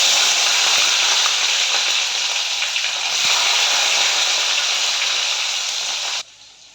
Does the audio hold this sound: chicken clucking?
no